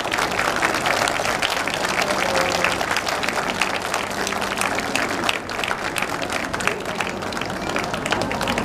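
Audience applauding steadily after a stage show by the Yokohama city fire brigade band at an outdoor festival, dense sustained clapping throughout with a faint hint of crowd noise.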